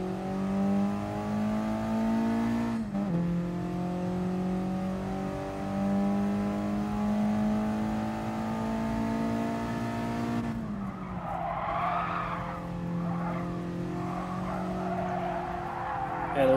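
A 1996 Mitsubishi Lancer Evolution 4 races in Gran Turismo Sport, its engine note holding steady, dropping sharply on a shift, then holding again before tires squeal and skid through a corner as the engine continues underneath.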